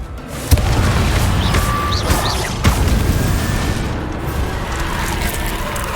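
Loud, booming spell blasts from the Confringo fire curse in Hogwarts Legacy, two sharp explosive hits over a dense rumbling wash of game effects and music, with crackling bursts trailing after.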